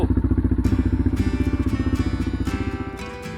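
A motorcycle engine idles just after starting on a foggy morning, a close, loud, rapid thumping putter with slight irregular pops, the beat easing and softening toward the end.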